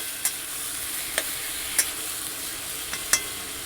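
Tomato with salt and turmeric being stirred in a pan for a khichuri chutney, making a soft, quiet sizzle with a few sharp spoon clinks against the pan spaced through it. No one speaks.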